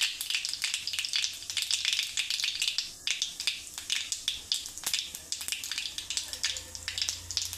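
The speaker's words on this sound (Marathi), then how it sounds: "मोहरी तडकली बघा" Mustard seeds crackle in hot oil for tempering, with rapid, sharp, irregular pops and clicks over a soft sizzle, close and fairly loud, with no voice.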